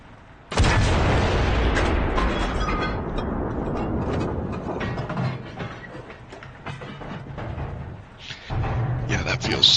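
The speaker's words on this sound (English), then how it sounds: "Still can use the machine gun though, which is nice." Machine gun fire in Enlisted during a USSR match, a loud sustained burst of rapid rattling shots starting abruptly and running for several seconds, then a pause and a second burst, with some talk mixed in.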